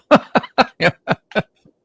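A burst of repeated coughs, about six or seven in quick succession, close and loud, fading out at the end.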